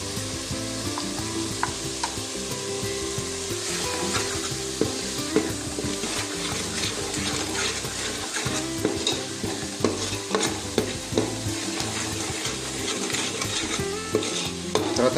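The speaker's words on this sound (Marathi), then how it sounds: "ह्याला थोडंफार तेल सुटेपर्यंत आपल्याला मसाला फ्राय करून घ्यायचा ना, भाजून घ्यायचा आहे ना" Masala paste frying in oil for a Malvani crab curry, with a loud, busy sizzle and rapid, repeated scraping and stirring strokes against the pan, close up and continuous, with no talking.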